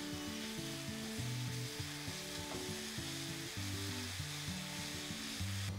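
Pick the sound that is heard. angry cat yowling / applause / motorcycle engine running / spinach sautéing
spinach sautéing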